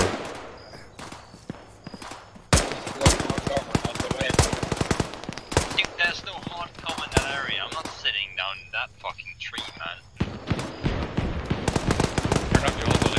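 Rifle and machine-gun fire crackles through a large-scale military simulation firefight in Arma 3, with dense rapid bursts and scattered single shots near and far, and voices talking over the shooting.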